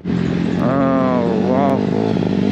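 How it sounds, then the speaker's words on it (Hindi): Dirt bike engines at a motocross event, a loud, close motorcycle whine that rises and falls in pitch as the bikes rev and ride around, with some voices mixed in. "लास्ट में बस दो तीन बाइक से घूम रहे हैं यहाँ पे अभी"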